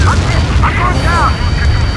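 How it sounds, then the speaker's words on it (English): A missile striking its target in the Ace Combat 7 jet combat game, a loud booming burst mixed with radio voices and whistling, warbling tones from the cockpit, the whole thing dense and close. "Missile hit."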